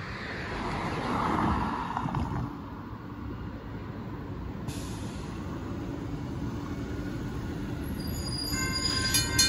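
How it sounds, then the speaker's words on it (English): A northbound Union Pacific auto-carrier freight train rumbles past close by at a street crossing in Austin, Texas, with a steady broadband roar, a brief squeal of wheels, and a faint horn-like tone near the end. "Here comes another train."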